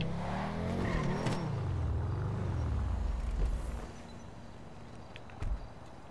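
A car drives in the video game GTA 5 Online, its engine revving and shifting through rising and falling pitch for several seconds, then settling into a quieter hum with a brief thump near the end.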